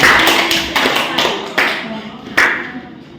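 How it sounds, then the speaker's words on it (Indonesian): Classmates applaud a student at a micro-teaching lesson in an Islamic creed and morals class, scattered clapping and taps coming in several short bursts with brief lulls between, fairly close in a small room. "Berikan aplaus teman adik-adik untuk Adik Sri karena sudah berhasil"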